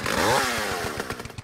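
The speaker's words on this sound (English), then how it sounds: "Whoa. I got a chainsaw." A chainsaw in the Roblox game revs with a loud rising whine, then settles into a rough, pulsing idle that sputters and fades, heard alone without talk.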